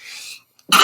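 A sharp, loud sneeze bursts out after a short hiss and a moment of silence, close to the microphone.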